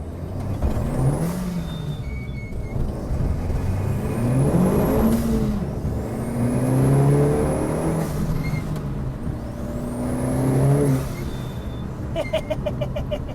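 A modified Renault Clio with an Audi 1.8T engine, about 300 horsepower, revs and pulls hard through rising gears, with a turbo whistle and whooshing blow-off between shifts, loud and close from inside the cabin.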